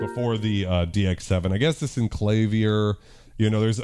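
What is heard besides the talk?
No distinct noise like a dog, phone or traffic.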